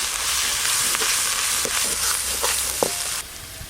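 Onion, ginger and garlic frying in hot oil with dried chillies and spice paste, a loud steady close sizzle with occasional stirring scrapes and spatters, no talk.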